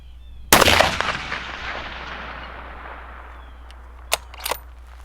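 Rifle shots ring out at a steel plate target on an outdoor range, one loud crack near the start with a long rolling echo, then two quieter, sharper reports close together toward the end.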